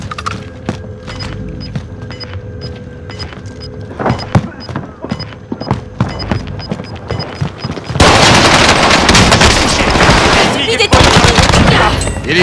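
Gunfire in Call of Duty Warzone Pacific: sharp shots crackle in scattered bursts over a humming game backdrop, then a dense, loud stretch of sustained fire and chaos fills the final seconds.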